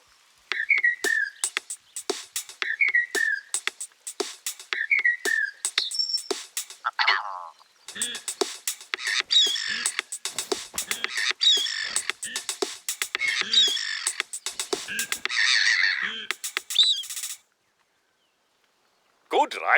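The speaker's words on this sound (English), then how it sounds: "We recorded the call of some birds and made this." A short tune built from recorded bird calls in theHunter: Call of the Wild, with repeated chirps and whistles in a bouncy rhythm, then a dense, busy stretch of layered calls that cuts off near the end.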